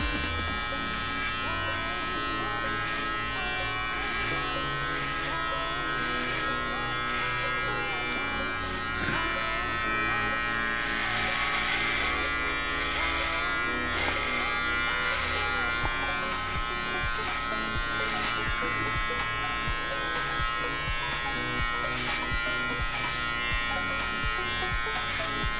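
An electric hair clipper buzzes steadily and loudly through a DIY home haircut, its constant motor drone shifting slightly as it runs through hair, with no break for the whole stretch.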